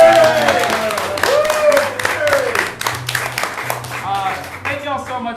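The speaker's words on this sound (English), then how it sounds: "let's give Mary a big round of applause" A club audience at the Hideout applauds a performer, dense clapping mixed with cheers and whoops, with voices talking over it.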